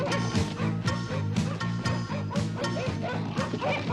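Several dogs bark repeatedly in quick, overlapping yaps, close and loud throughout, in a French animated cartoon scene.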